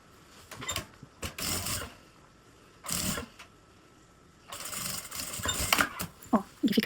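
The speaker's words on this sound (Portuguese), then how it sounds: "E vamos passar uma costura reta fora a fora." A sewing machine runs a straight seam through bias binding on a box-style toiletry bag, in several short bursts of rapid mechanical stitching separated by pauses, close and moderately loud.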